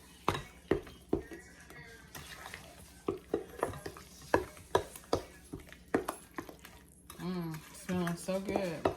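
Brown sugar being stirred into sweet potato pie filling in a bowl: a run of sharp, close spoon clicks and scrapes at an uneven rhythm, with a voice talking near the end.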